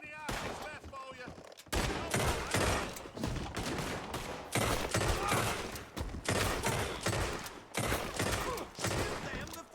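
Rapid gunfire rings out in a western video game shootout, dense volleys of shots close and loud, pausing only briefly before more bursts follow.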